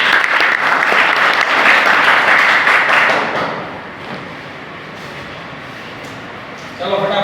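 A room of seminar participants claps for a fellow attendee, loud dense applause for about three seconds that thins and fades to a low murmur before a voice cuts in at the end.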